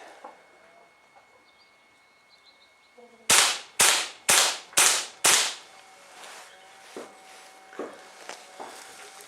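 A Crosman 600 CO2 air pistol fires five sharp, loud cracks in quick semi-auto succession, each with a short ringing decay, followed by faint mechanical clicks.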